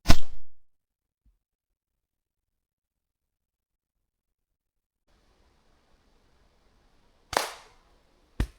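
An air rifle fires at a squirrel during a hunt, a sharp close crack at the start followed by quiet, with a fainter report and another crack near the end.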